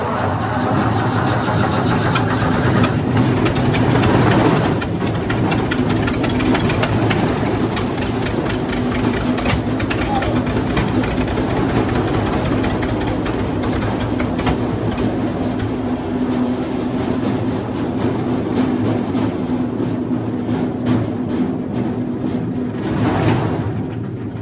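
Wood chipper engine being started with the choke partly open, then running with a steady rough idling drone, the throttle rising and settling slightly, for over twenty seconds without speech.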